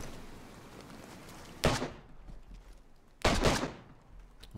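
Gunshots in the video game DayZ: two heavy, booming reports a couple of seconds apart, each trailing into a long fading echo over low ambient rumble.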